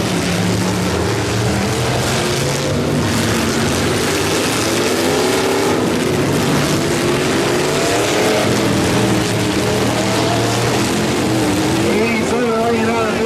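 Loud pro stock truck engines at a demolition derby roar and rev continuously with rising and falling pitch, a crowd and announcer-like talk mixed in throughout.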